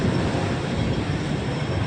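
A Hong Kong tram rolls along Des Voeux Road West near the Shek Tong Tsui terminus, a steady, loud, close rumble of wheels and street traffic with no break.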